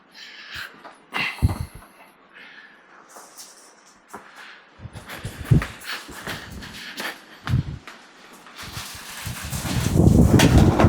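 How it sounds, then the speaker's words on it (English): Gusts of wind buffet the microphone in bursts, growing into a loud, rumbling roar near the end, with rustling and handling noises in between. "you can see how windy it is"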